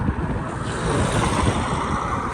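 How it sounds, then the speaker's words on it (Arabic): Strong wind on an empty desert road to Errachidia near Goulmima, a loud, steady roaring buffet across the microphone with no break and no voices. "فيه الريح بزاف"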